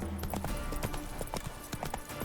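Hooves of a horse galloping in The Witcher 3 video game, a steady fast clip-clop rhythm with thuds repeating throughout, close and fairly loud over game ambience.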